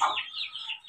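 A brief, close call from an Asil breed rooster, a short raspy fowl vocalization with wavering tones that fade quickly.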